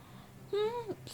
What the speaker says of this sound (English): Sounds like a child crying